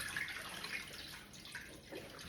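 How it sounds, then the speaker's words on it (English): Water pours and splashes off while draining pot roast ingredients in a kitchen, a close, soft, continuous gurgle and trickle with small splashes, no voices. "Just want to drain the water off."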